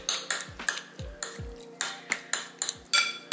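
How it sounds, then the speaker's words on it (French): Tuna seasoned with soy sauce being mixed in a bowl with a utensil, a series of sharp clinks and taps against the bowl in an uneven rhythm, close and alone. "je vais mélanger ça"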